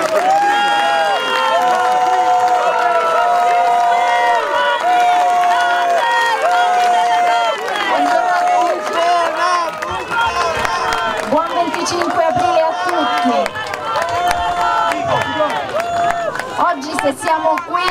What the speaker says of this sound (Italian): Vi chiedo di accoglierla con un applauso.